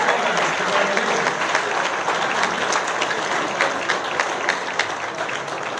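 Sustained applause and cheering from a crowd honoring athletes at an awards event, steady and dense for the whole stretch with scattered louder claps and no break.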